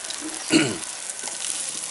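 A Thai omelette (khai jiao) frying in a pan, a soft continuous sizzle with one brief louder scrape or flip midway, close and fairly quiet.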